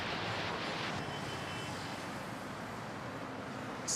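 A China Southern Boeing 787 Dreamliner lands at Manila airport, heard as a steady, broad jet engine roar with wind-like rushing noise, fairly distant and continuous throughout.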